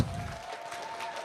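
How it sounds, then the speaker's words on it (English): An audience gives a round of applause, a brief steady wash of clapping heard mid-way with no pauses and no speech over it. "Everybody give her a big round of applause."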